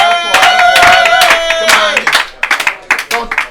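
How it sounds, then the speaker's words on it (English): Audience at a live comedy show clapping for a comedian, bright scattered hand claps over music and some voices, thinning into a few separate claps toward the end. "Start the applause going."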